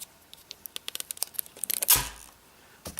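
Wrapping is peeled off an iPod Touch box, close up and quiet, with a run of small crinkling ticks that builds to a louder tear of plastic near the end.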